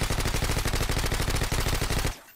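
A suppressed gun in the shooter video game Call of Duty: Modern Warfare 2 fires a rapid, evenly spaced automatic burst of about two dozen muffled shots, loud and close, then stops with a short tail.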